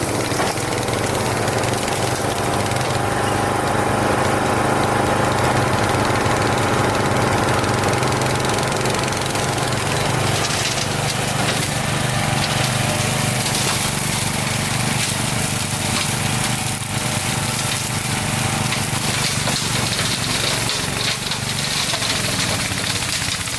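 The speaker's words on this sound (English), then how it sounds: "Let me show you what this mower can do." A mower engine runs hard while it cuts a path through heavy brush, producing a loud, continuous, rough mechanical drone that shifts in load and pitch as vegetation is chewed through, with no talking.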